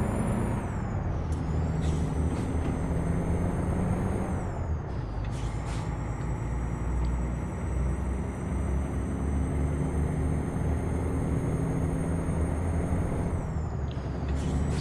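Heavy truck engine in Euro Truck Simulator 2, a loud, steady low drone that rises and holds for the whole stretch, with air-brake hisses and brief pitch shifts near the start, middle and end.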